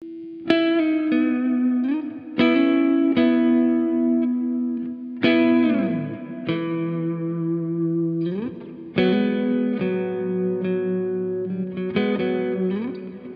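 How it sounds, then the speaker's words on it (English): Lead guitar played through a Hardwire RV-7 stereo reverb pedal on its plate setting: loud picked single notes and bends ring out one after another, each tail decaying smoothly, with no voices. "a little bit of plate reverb on the lead part"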